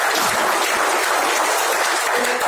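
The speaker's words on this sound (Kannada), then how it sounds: "ಒಂದ್ ಜೋರ್ ಚಪ್ಪಾಳೆ ಬರಲಿ ಸರ್." Loud audience applause fills the whole stretch as a dense, steady wash of many hands clapping at once, with no voices over it, during a talk about a Netsurf business plan.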